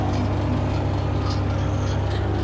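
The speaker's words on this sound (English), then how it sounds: "the chipping rotor start to turn" Constant low mechanical rumble and whir from a TP176 wood chipper as its chipping rotor starts turning, a steady dense drone heard up close without speech.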